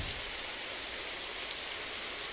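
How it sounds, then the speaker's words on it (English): Rain falling in a racing video game, a dense steady hiss of drops that stays constant and loud throughout, with no voices over it. "The rain is sticking around, we can't get rid of it."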